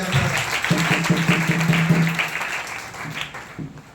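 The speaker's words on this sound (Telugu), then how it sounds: "గట్టిగా చప్పట్లు కొట్టి ప్రభుని" A crowd claps loudly and continuously, the applause gradually thinning toward the end, with a few voices faintly mixed in.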